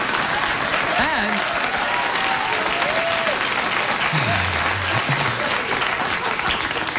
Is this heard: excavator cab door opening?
no